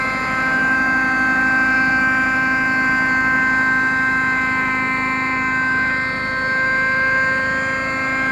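A model helicopter holds a hover, its motor giving a steady, droning whine with a layered tonal hum that stays constant and fairly close throughout, with no voices.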